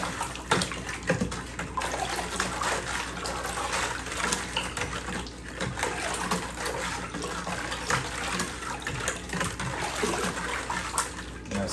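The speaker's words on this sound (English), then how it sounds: "so now we'll take our spoon and we'll go ahead and stir everything up here good" A spoon stirs a homemade strawberry wine mixture of strawberries, water and sugar to dissolve the sugar, giving a continuous sloshing, watery swirl with irregular soft clinks, steady and fairly close throughout.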